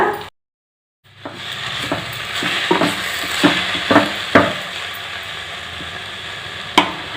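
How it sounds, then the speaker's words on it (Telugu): Sorrel leaves sauté in a pan for little millet pulihora, a steady sizzle with repeated sharp spatula knocks and scrapes against the pan. The sound starts after a brief silent gap and carries on with no talking. "రెండు నిమిషాలు దీన్ని మగ్గబెట్టుకోవాలి వేయించుకోవాలి"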